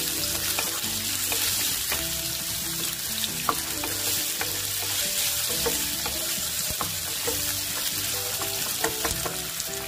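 Potatoes fry in mustard oil with a constant loud sizzle, while a utensil scrapes and stirs through them in frequent irregular knocks, close up and without talk.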